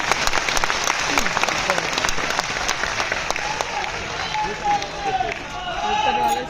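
Audience applause at a Lucknow public event where development projects are inaugurated, steady dense clapping from a crowd lasting throughout, with faint crowd murmur underneath.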